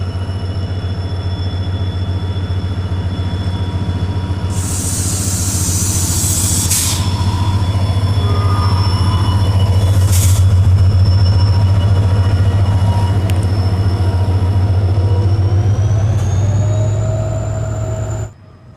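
A passenger train pulls in at Phulera Junction in Rajasthan, its deep, steady rumble loud and continuous throughout, with hissing air-brake bursts and metallic squeals along the way before the sound cuts off abruptly.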